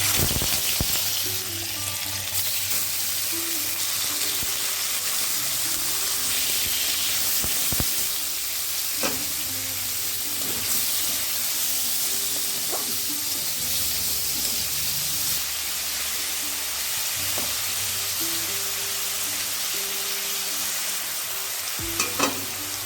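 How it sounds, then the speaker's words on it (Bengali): Chicken pieces for pizza lightly fry steadily in hot white oil, a continuous loud sizzle with occasional sharp crackles and spatters throughout. "চিকেনের টুকরোগুলোকে একটু হালকা ভেজে নেব"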